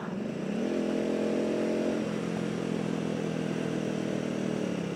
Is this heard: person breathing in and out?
no